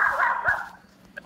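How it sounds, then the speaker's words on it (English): A small dog gives a short yappy bark followed by a brief whimper, close and fairly loud, heard without talk. "See, that's a dog right there."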